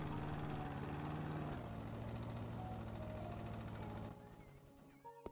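A lawn mower engine in the video game House Flipper drones with a steady buzzing mid-pitched hum, then cuts off abruptly near the end, leaving quieter background.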